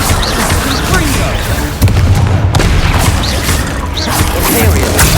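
The Confringo fire spell from Hogwarts Legacy bursts in loud, heavy booming blasts amid ongoing combat rumble, with a few sharper cracking impacts breaking through the dense, continuous din.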